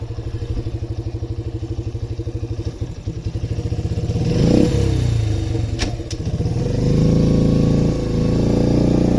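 A Yamaha Raptor ATV engine idles with a rapid putter, then revs hard to full throttle into a loud, sustained roar with clattering mechanical noise, recorded up close outdoors on a cold day.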